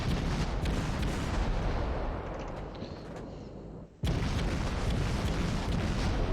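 Heavy naval cannon fire from cruisers in World of Warships booms in a dense, loud rumble that drops away briefly, then slams back with a sharp new salvo and continues.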